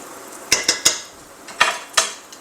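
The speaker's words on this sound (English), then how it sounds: "Our onions are nicely softened now, cooking away very nicely." Softened onions with minced garlic cook in a pan under a faint sizzle, broken by five sharp clinks of a utensil against the pan in two quick groups, close, with no voices.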